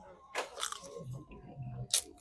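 Someone bites into a crunchy, freshly picked hydroponic melon, with several close, crisp crunching bites and wet chewing between them.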